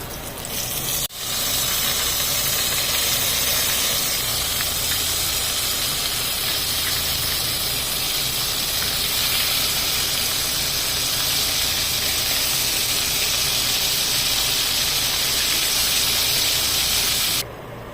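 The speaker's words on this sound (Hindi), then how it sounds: "तो इनको भी फ्राई होने के लिए उनके साथ ही डाल दें।" Pieces for zinger shawarma frying in hot oil, a loud continuous sizzle and hiss that holds steady for many seconds after a brief opening clatter, with no talking.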